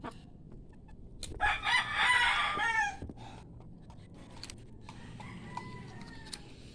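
A rooster crows loudly nearby, then scattered hens cluck softly over a quiet outdoor background.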